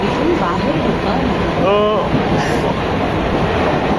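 Riding a train from Mumbai to Mahad through heavy rain brings a steady, close rush of wheel and car noise with a brief rising whine partway through and faint voices underneath.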